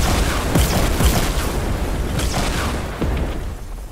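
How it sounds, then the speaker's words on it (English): A giant smashes a burger restaurant in Fortnite, producing loud rumbling booms and crashing debris bursts that roll continuously for a few seconds before tapering off. "Hey, you destroyed my restaurant."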